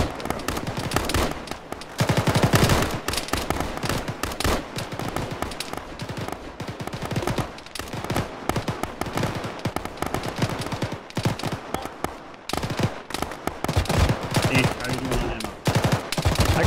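Intense gunfire in an Arma firefight near a trench, rapid machine-gun bursts and rifle shots layered loudly and almost continuously, with voices occasionally under the noise.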